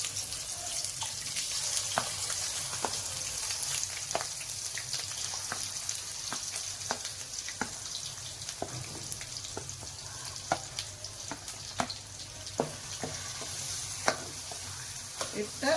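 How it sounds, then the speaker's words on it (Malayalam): Ground masala paste for Punjabi chicken gravy sautés in oil with a bay leaf, a continuous soft sizzle broken by frequent scraping and tapping of a spoon stirring the pan; no talking. "ഇതൊരു 2-3 മിനിറ്റ് ഈ എണ്ണയിലിട്ട് നല്ലോണം ഒന്ന് വഴറ്റിയെടുക്കാം"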